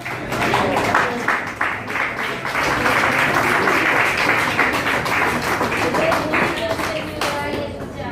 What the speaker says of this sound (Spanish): ¿Pueden darse un aplauso para usted?